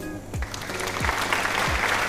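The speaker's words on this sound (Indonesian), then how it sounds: "Beri tepuk tangan yang meriah semuanya" Students in a classroom applaud group 1 after its discussion presentation, a lively burst of clapping that swells and continues steadily, with a few low thumps near the start.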